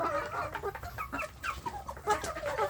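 Kampung chickens cluck and chatter nearby in quick, overlapping calls, a lively flock murmur with no talking.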